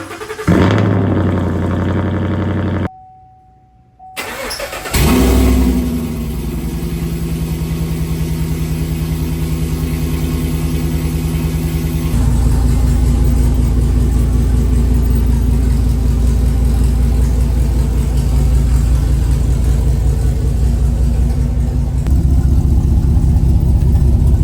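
A 2014 GMC Sierra with a 5.3 V8 and 1 7/8-inch long tube headers starts up after a short gap, then settles into a loud, rumbling idle. The idle grows deeper and heavier partway through and runs steadily close by.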